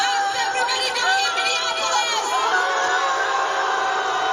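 Concert crowd in Minneapolis booing a performer, a sustained loud mass of drawn-out jeering voices with scattered shouts blending into one continuous wall of sound.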